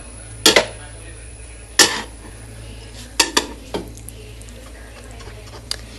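Biryani rice is handled in a clay pot, giving a few sharp scrapes and knocks spaced a second or so apart over a quiet background hum, close to the listener.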